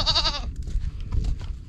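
On a farm, a goat gives a clear wavering bleat, with a low rumble of wind or handling noise from the outdoor setting under it and a few fainter sounds after.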